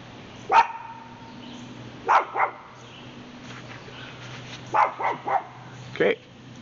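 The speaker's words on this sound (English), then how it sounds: "What are you barking at?" A dog barks several times in short bursts, single and doubled yips spaced a few seconds apart, close by over a low steady hum.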